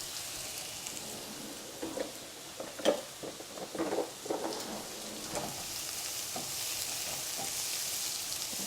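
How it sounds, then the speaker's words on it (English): Food sautés in a pan at a low level, a soft bubbling sizzle broken by a few louder scraping stirs near the middle before settling into a steady hiss. "These are sauteing."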